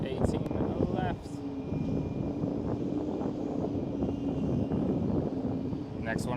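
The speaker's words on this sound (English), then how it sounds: "And there goes KLM 737. From runway 18 left." A KLM Boeing 737 takes off from runway 18 left at Amsterdam Schiphol, a steady distant engine roar running throughout, with brief talk at the start and end.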